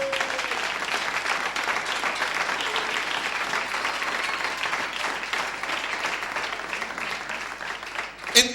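Congregation applauding during a Christmas church service, steady moderate clapping from many people that fills the space evenly and ends with a brief louder bump.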